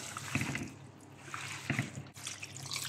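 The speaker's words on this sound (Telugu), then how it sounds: "మనకు ఎన్ని నీళ్లు కావాలా చూసుకొని నీళ్ళు అయితే వేసుకున్నాం" Water is poured into a tamarind fish curry in the pan, giving soft, brief splashes and trickles that come in a few quiet bursts.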